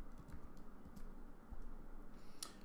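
Fingers typing on a computer keyboard, a quick run of light, uneven key clicks up close with a few sharper taps, no voices.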